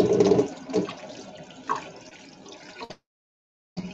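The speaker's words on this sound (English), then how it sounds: "Yeah, wash our hands." Tap water runs into a kitchen sink during hand washing, a steady splashing stream that stops abruptly near the end, followed by a brief return of sound.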